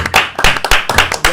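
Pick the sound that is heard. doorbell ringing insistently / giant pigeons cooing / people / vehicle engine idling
people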